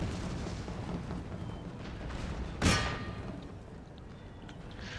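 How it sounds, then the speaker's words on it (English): Cannon fire in the video game Empire Total War, set amid trees and a house, with a single sharp boom standing out mid-way above a dull, continuous battlefield rumble. "It's interesting how the trees are absorbing the cannon fire."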